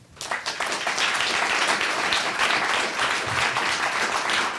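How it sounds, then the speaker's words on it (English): An audience at an awards ceremony applauds the winners and honorable mentions, with steady, dense clapping sustained throughout at moderate volume. "Once again, applause for all of the winners and honorable mentions tonight"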